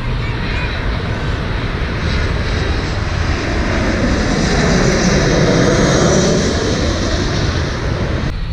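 A large airplane roars loud and steady on its landing approach at LAX, the engine noise swelling toward the middle and holding throughout with no talk over it.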